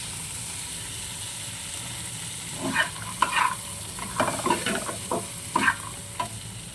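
Boiled chickpeas fry in a pan with half a lime's juice added, a soft steady sizzle broken by a run of scraping, clattering stirs of a spatula, close up with no talking.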